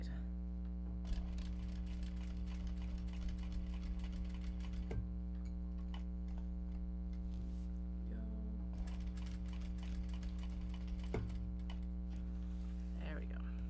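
A sewing machine stitches fabric for Japanese-fabric small box project bags, its faint rapid needle ticking running over a steady low motor hum, with a few louder clicks along the way.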